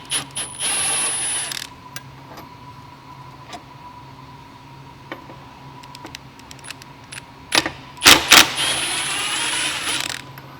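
Two large 27mm nuts being undone on the wiper motor plate of a Mk6 Fiesta ST150, heard as intermittent close metallic clicks and ratcheting, with a louder burst of clattering tool work near the end.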